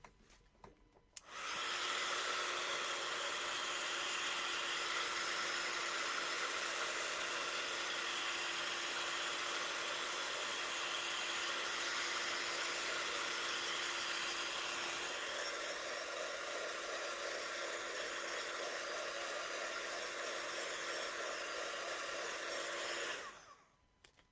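A hair dryer blows air over a painted butterfly on an art journal page, switching on after a second and roaring steadily and loudly for over twenty seconds before cutting off.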